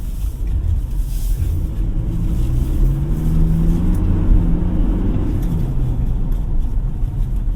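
Toyota Hilux GR-S pickup switched into power mode on a driving course, its engine rumbling and building in a rising, accelerating note for several seconds, heard from inside the cab with no talking.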